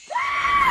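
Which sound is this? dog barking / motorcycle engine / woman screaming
woman screaming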